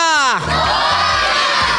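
A festival crowd at a Durga Mata mandal's Khel Paithanicha event in Vaibhavwadi roars and chants together in a loud burst, after one voice rises in a sliding call, and the chant carries on as shouting.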